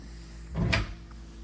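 A pantry cupboard door in a house opens or closes once in a single brief, soft knock and rustle against a quiet room, with no talking.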